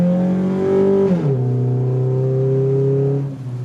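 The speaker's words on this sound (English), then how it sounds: "Here we go, wide open throttle real fast." Car with a freshly installed 40/41TE transmission shift kit accelerating at wide open throttle, a loud steady engine drone that climbs in pitch, drops sharply at a gearshift, then climbs again before a second shift near the end.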